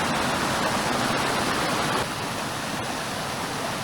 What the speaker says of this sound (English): There's a lot of water coming off the mountain after the winter.